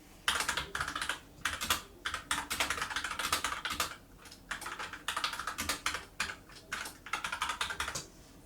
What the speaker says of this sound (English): I will open up WordPad and type a sentence